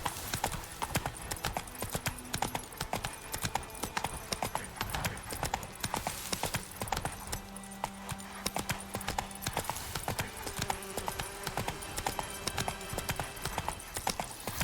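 Rapid, steady clip-clop of horse hooves at a gallop in The Witcher 3: The Wild Hunt, with game music and effects layered underneath.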